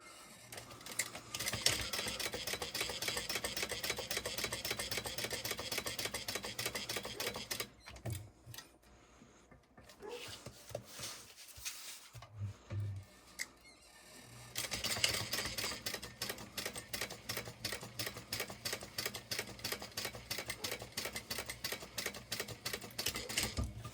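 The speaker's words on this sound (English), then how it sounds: "I'm going to go ahead and stitch this on at a top stitch seam allowance, 1/8 of an inch." A sewing machine top-stitches a fabric add-on piece at a 1/8-inch seam allowance in rapid, close, rhythmic bursts of stitching. It pauses midway for quiet handling and then runs again.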